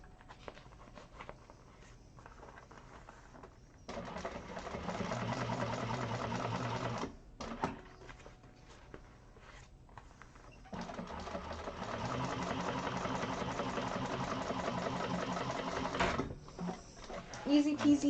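A sewing machine runs top stitching along the bottom panel seam of a Pawling handbag, two long steady bursts of close, even motor whir with brief pauses between, while someone talks over it.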